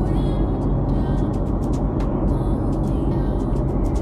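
A car cruising along the Midlands Highway in Tasmania on a potholed, crumbling road surface, giving a loud steady low rumble of engine and tyre noise heard from inside the vehicle.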